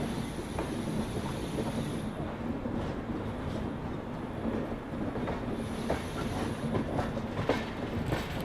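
A train rolls into a platform at Ratlam Junction, coming in from the Chittorgarh line, with a steady rumble of wheels and occasional faint rail clicks and squeals throughout, fairly close and continuous.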